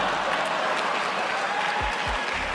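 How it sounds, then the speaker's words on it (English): Steady, moderately loud audience applause in a large hall at a motivational speaking event, continuous without pause and with no speech. "You're gonna get lukewarm applause at USC for some of the kids here."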